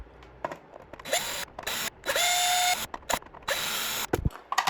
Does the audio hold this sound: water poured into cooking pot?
no